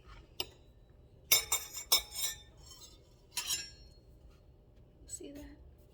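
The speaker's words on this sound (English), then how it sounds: "I'm just gonna start chopping my kiwi." A knife chops kiwi on a cutting board in a home kitchen, giving a few sharp clacks in an uneven cluster with light clinks between, and a brief low voice near the end.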